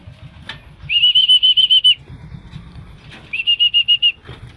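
A racing pigeon returning to its loft flaps its wings in two bursts of rapid, whistling wingbeats, each about a second long, loud and close, with quiet surroundings between them.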